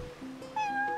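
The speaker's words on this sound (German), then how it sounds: "Eine Katze." A cat in the video game Final Fantasy XV, heard in a seaside area, gives a short, clear, close meow that rises into a higher drawn-out note, with no speech over it.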